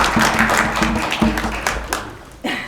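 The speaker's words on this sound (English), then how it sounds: "Let's have another round of applause for our Deputy Mayor, Janet McDaniel." An audience applauds the deputy mayor at a Kwanzaa commemoration in Paterson, a broad wash of clapping that thins out over a couple of seconds, with a low hum underneath.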